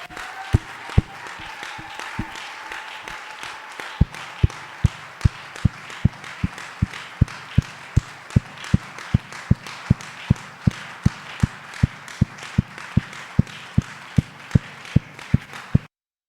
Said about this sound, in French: Acclamez très très fort pour Seigneur Jésus.